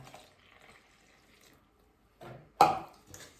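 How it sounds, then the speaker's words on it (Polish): Lukewarm water splashes into a bowl of bread flour mixture in a home kitchen, coming in short bursts, with one sharp pour near the end, close and fairly quiet. "będziemy dolewać letnią wodę"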